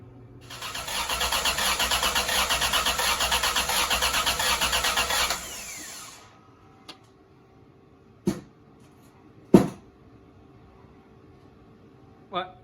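A repaired van engine, freshly oil-primed and topped up with coolant after overheating, cranks loudly and steadily for about five seconds, then falls quiet, leaving a few sharp knocks and clunks.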